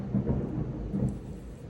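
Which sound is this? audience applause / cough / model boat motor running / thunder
thunder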